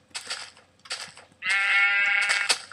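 Sheep bleating in the video game Minecraft, several short wavering bleats in a row, then a longer, louder drawn-out bleat, clear and close with nothing else heard.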